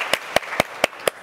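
Five evenly spaced sharp claps, about a quarter second apart, from an audience applauding a student, each clap a crisp broadband burst over a faint room background.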